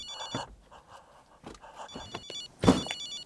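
A telephone rings in short electronic trills, two clear bursts with gaps between them, over a quiet room with faint rustling.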